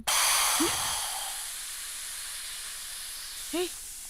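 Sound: pressure cooker whistle releasing steam

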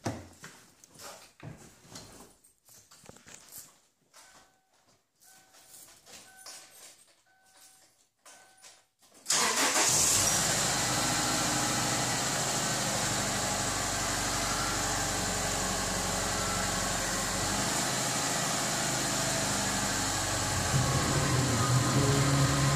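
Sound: Chevrolet Malibu car engine starting and idling in garage

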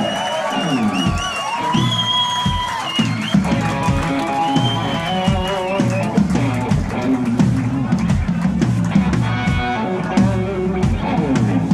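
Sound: audience applause for Jerry Gray

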